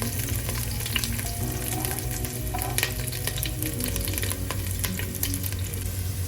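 Garlic, ginger and curry leaves sizzle steadily in oil for a Kerala-style pork roast, with a spatula scraping and stirring through the continuous frying hiss.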